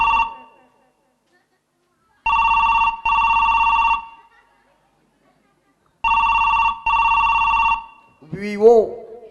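A mobile phone rings loud and close with an electronic trill in double bursts, two pairs separated by silence, after the tail of an earlier ring. A voice briefly speaks at the very end.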